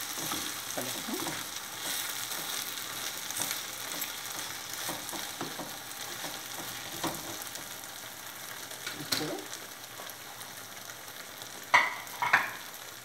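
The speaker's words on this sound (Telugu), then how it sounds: "కొంచెం కలుపుతాం" Veg manchurian mixture is stirred in a pan over a soft continuous frying hiss, with scattered scraping clicks of the utensil and a couple of louder clatters near the end.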